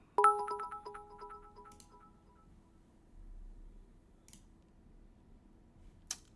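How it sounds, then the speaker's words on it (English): A stream notification alert plays a short, bright chiming jingle of ringing tones at the start and then fades, followed by faint clicks over quiet background. "A notification."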